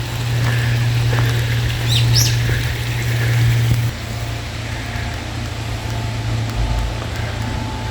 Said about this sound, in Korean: 대천천의 물소리입니다.